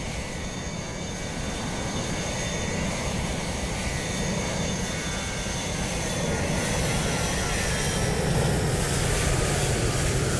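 A DHL cargo jet, a Boeing 757 or 767 in Microsoft Flight Simulator 2020 at Dublin Airport, roars steadily on departure, with loud broadband engine noise and a faint whine that builds slightly toward the end.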